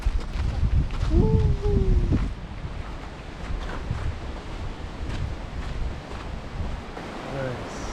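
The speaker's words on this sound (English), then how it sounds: "Waterfall." Continuous rushing water of a waterfall on a hike near Mt. Rainier, Washington, steady and moderately loud, mixed with wind buffeting, while a person speaks briefly over it.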